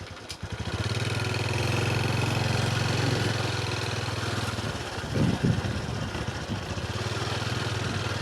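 Motorcycle engine idling and running on a rural ride out to the forest edge, a steady low mechanical drone close by that wavers near the end, with no talk.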